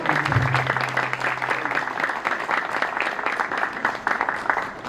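Audience clapping at an exhibition ceremony: a steady, moderately loud wash of many hands applauding together for about five seconds, with a brief low tone near the start.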